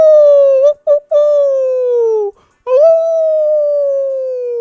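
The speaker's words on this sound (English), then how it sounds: "I'm gonna send in a free howl." Dog-like howl sound effect triggered by a livestream redeem: a loud, close, sustained tonal howl in two long drawn-out phrases with brief breaks and yip-like catches between, standing alone without speech.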